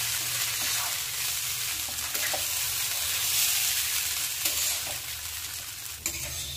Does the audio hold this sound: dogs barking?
no